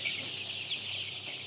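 Broiler chickens about 17 days old on a poultry farm cluck steadily, a dense continuous flock chatter with no voices.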